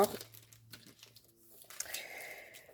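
Plastic packaging for cheap Easter-themed craft stamps crinkles and tears in close, irregular rustling bursts, with a voice briefly at the start.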